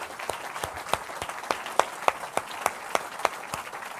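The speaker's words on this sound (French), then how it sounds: "Ah oui, il mérite des acclamations, frère." Sparse, irregular claps from a small church congregation ring out one after another, each a sharp distinct crack, with no voices in between.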